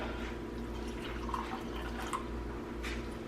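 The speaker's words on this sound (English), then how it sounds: "Now, I'm going to do another bit of water." Water trickles and drips into sourdough bread dough in a bowl, a faint, steady pour with a few soft splashes over a low background hum.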